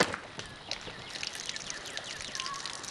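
Liquid fizzes and trickles out of a slashed 2-liter plastic bottle in quiet, close bursts of bubbling and dribbling, with no one speaking.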